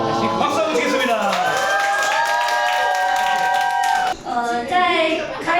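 Applause at a church gathering during a short-term mission trip in Kaohsiung, Taiwan: dense clapping with voices cheering and calling out over it, dropping briefly near the end before picking up again.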